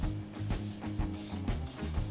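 An aerosol rattle can sprays paint onto the firewall of a Sonoma S10 minitruck in short, repeated hissing bursts, fairly quiet over a low rhythmic background.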